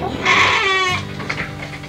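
Sheep in a pen give one loud, wavering bleat close by, then a softer trailing call fades out behind it.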